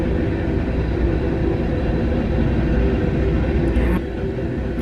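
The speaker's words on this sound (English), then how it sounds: "I can't stand this train." A loud, steady rumble of a train rolls on continuously, then eases slightly near the end as it passes.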